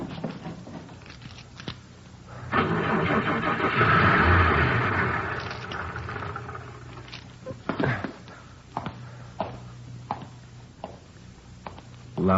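A car that won't start cranks for a few seconds in one sustained, grinding burst and never catches, followed by scattered clicks and footsteps in a quiet setting.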